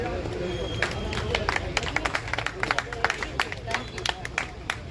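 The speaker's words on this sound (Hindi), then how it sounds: "साथ में तालियों से स्वागत भी करने मेरा" An audience claps in welcome at a garlanding ceremony during an official visit in Barmer, with scattered, uneven claps close by under steady crowd murmur and talk.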